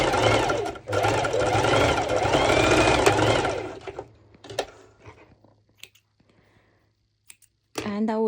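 A sewing machine runs over fabric with a shortened stitch length in one steady, close burst of rapid stitching, then stops, leaving near silence with a few small clicks and handling sounds.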